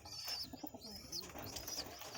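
Madras high-flyer pigeons in a loft coo in low, rolling throaty phrases, faint and close, with a thin high whine running above them.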